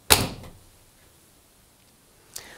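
An LG washing machine door pushed shut, one sharp close thud, then quiet, and a second fainter click near the end in a quiet room.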